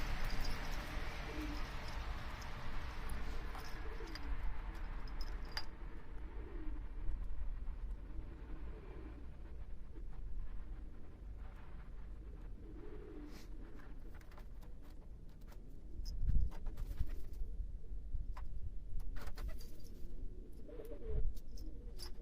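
Tumbler pigeons coo in soft, repeated low calls close by on a rooftop, with outdoor ambience and occasional clattering knocks.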